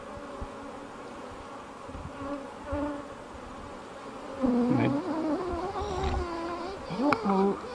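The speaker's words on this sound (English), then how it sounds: "I don't know what is the matter with these bees." Honey bees hum around a hive in a close, wavering buzz that swells and warbles, growing louder partway through, with a person talking faintly beneath it.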